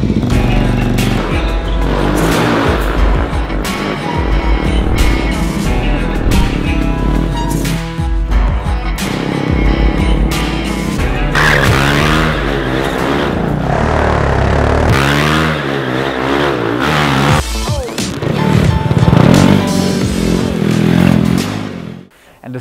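KTM motorcycle, an RC 390 or Duke, ridden inside the large KTM Mexico workshop, its engine revving and clattering loudly and continuously for over twenty seconds, with scrapes and echoing roar throughout.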